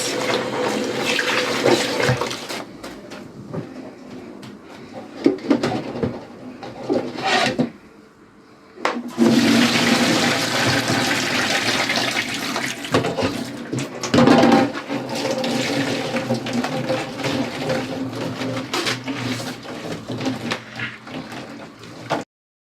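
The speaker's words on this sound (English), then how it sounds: "So let me wash it off camera so that the video will not be too long" Bitter leaf is washed by hand in water, with continuous splashing, rubbing and sloshing close by, broken by a brief pause and resuming steadily with occasional knocks against the bowl.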